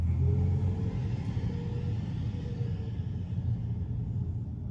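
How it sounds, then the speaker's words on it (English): Cabin noise inside a driving 2023 Tesla Model 3: a low, steady road rumble with faint tire hum, fairly quiet, no talk. "And the noise while driving in here is pretty quiet."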